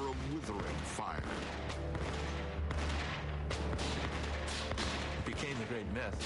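Volleys of musket gunfire in a re-created Revolutionary War scene as British troops in formation march back to Boston under fire, with dense overlapping shots and low rumble running continuously throughout.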